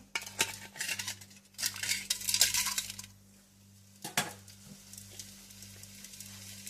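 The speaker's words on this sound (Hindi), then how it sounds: "और कोयले के ऊपर आप थोड़ा सा तेल डाल दें और बर्तन का ढक्कन आप बंद कर दें।" Oil poured over hot charcoal set in a pot with chicken tikka gives a crackling sizzle in bursts, mixed with clinks of metal utensils and a lid against the pot, with no talking.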